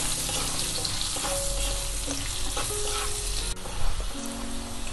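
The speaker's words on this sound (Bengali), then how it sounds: "আলুটাকে আমি তেলের সঙ্গে নাড়িয়ে চাড়িয়ে ভেজে নিচ্ছি" Potato pieces with salt and turmeric stir-fried in oil, a continuous close sizzle with spatula scrapes and a clack near the end, no speech.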